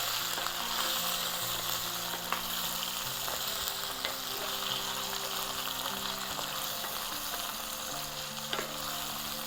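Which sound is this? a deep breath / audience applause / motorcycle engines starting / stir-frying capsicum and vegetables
stir-frying capsicum and vegetables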